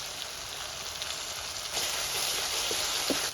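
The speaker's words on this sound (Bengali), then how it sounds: "মশলাটা ভালো মতন কষানোর লাগিয়া এখন অল্প একটু মৌ দিয়ে দেবো" Crab masala spices, ground coriander and salt, sizzle in hot oil in a pan, making a steady, close hiss with faint crackles and a slight swell partway through.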